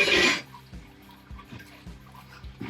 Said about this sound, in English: we're gonna let that drip for a little bit and then we'll start sparging